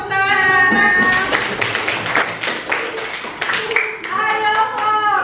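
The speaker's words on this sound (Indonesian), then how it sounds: "Tepuk tangan." Classroom students clap their hands after a group presentation during a coding and artificial intelligence lesson, with voices talking over the clapping throughout.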